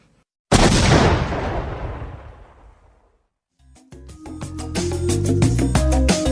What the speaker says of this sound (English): Love hearing that explosion.